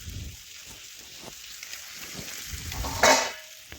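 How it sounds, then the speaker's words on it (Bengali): Tomatoes fry with red chilli powder and spices in a pan, a low crackling sizzle with occasional stirring scrapes and a brief louder burst of hissing near the end. "এখন আমি বেশ কিছুক্ষণ ধরে একটু টমেটো ভেজে নেব।"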